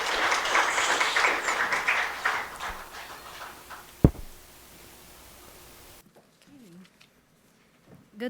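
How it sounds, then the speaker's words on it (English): Audience applause greets a speaker at the opening of a regional education meeting, a dense burst of clapping that gradually fades and ends with one sharp knock before quiet. "An applause for her, please."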